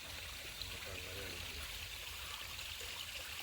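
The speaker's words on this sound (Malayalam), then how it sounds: "നമുക്ക് കൃഷിയുടെ ആവശ്യത്തിനുള്ള വെള്ളമൊക്കെ വരുന്നത് കേട്ടോ" Irrigation water flows steadily into rice paddy fields, a continuous close trickling stream with a faint voice briefly audible beneath it.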